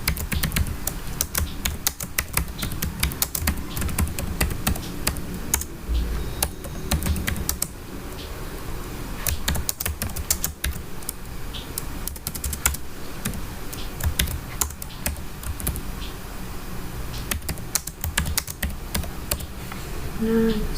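Continuous typing on a computer keyboard, a steady stream of quick, close, fairly loud key clicks and taps running throughout with no talking.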